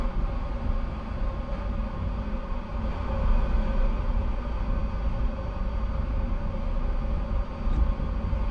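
A Kikka jet aircraft in the War Thunder game drones through a test flight with a steady, dense engine roar, loud and unbroken, with rumbling low end throughout.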